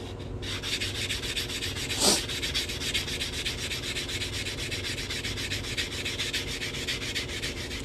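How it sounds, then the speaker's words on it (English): A quarter coin ring is sanded with a steady, soft rubbing rasp of abrasive on metal, close and continuous, with a brief sharper scrape near the start. "Sand it a little more just for safety."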